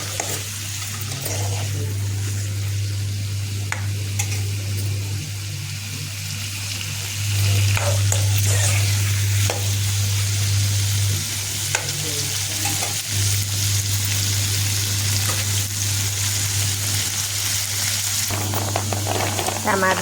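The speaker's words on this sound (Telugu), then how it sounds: "టమాటాలు కూడా వేపుతాను." Tomatoes fry in a little oil in a small kadai, giving a loud continuous sizzle close by with stirring sounds and a steady low hum underneath, growing louder midway.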